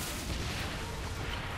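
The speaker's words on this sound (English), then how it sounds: "I got unlimited ammo, so I can just shoot everything" Steady, heavy blasts of gunfire with unlimited ammo in the video game Saints Row 4, a dense, rumbling wash of shots throughout with no pause.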